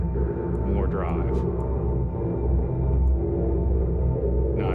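Spitfire Mercury synth patch pushed through added distortion drive, a dense, sustained buzzing tone with a hollow character, holding steady and loud throughout with a few brief brighter flickers on top.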